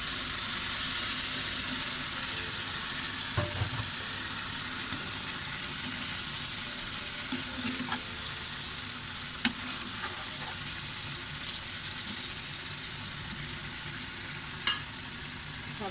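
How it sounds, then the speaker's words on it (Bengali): Food fries in a pan for dinner, a steady close sizzle that persists throughout, with occasional faint clinks of utensils and no talking. "করে নিচ্ছি রাতের রান্না"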